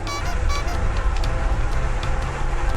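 A vehicle horn toots on a night road in Calatagan, Batangas, short bright honks sounding over loud wind and road noise from the moving vehicle.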